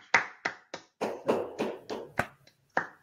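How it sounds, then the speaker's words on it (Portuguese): About ten sparse, separate hand claps, spaced unevenly and fairly quiet, from a single person applauding a testimony during an online course-completion presentation; otherwise near silence. "Gente, aplaudi o depoimento aqui, que foi lindo pra cacete."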